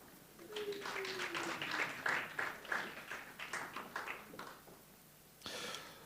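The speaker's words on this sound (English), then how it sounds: "A round of applause for Prof." Conference audience at an African information and communication rights event applauding a panelist, a moderate burst of clapping that swells and fades, with a brief voice over the start.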